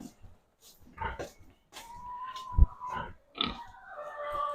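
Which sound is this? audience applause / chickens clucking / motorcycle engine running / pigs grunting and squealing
pigs grunting and squealing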